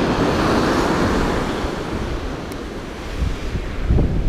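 Murky, rough sea surf rolls and breaks on the shore where bass fishing is going on, a loud continuous wash with wind buffeting the microphone, no voices.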